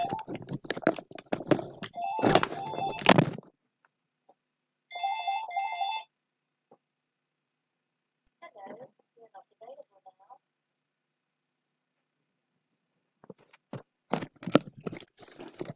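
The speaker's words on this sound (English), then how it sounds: "That's the sound of a phone ringing and me trying to get up and deal with it." A telephone rings indoors in two short bursts, with loud rustling, crunching movement before and after as someone gets up to answer, and quiet gaps in between.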